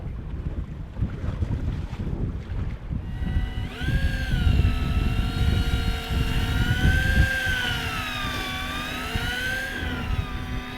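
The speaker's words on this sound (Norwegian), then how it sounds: "Så kjører vi fisken på snella." An electric fishing reel on a boat at sea hauls up a fish, whining steadily with a rising and falling motor pitch over wind and wave noise.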